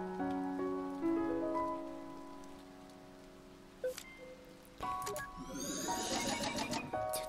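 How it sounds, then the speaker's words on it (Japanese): Rain falls in the video game To the Moon, a soft hiss at first under sustained music notes, then swelling into a fuller, steady patter during the last couple of seconds. "でも雨降ってるよ"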